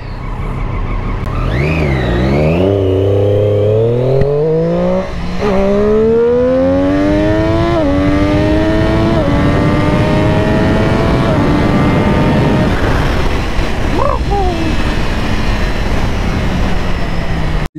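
A motorcycle engine revs hard and continuously, its pitch sweeping up and down through repeated gear changes and rising runs, loud and close for the whole stretch with no talk over it.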